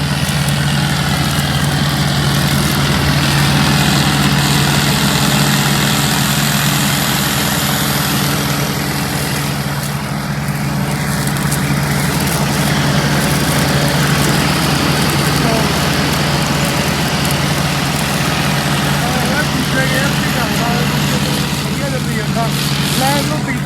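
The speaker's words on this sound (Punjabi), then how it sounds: "ਉਹ ਵੀ ਟਰੈਕਟਰ ਪਾਉਂਦਾ ਰੌਲਾ ਪਾਉਂਦਾ" A tractor engine idles steadily and loudly throughout, a low droning rumble with a constant hum, while a person talks over it.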